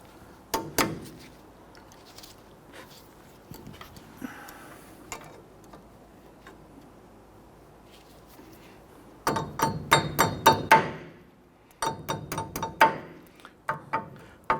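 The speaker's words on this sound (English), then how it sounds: "Just going to go ahead and tap this over, lock it into place." Metal tools working a cotter pin on a Nissan Frontier front wheel hub, sharp metallic clicks and light taps scattered in bursts with quiet gaps, close and crisp with no talk.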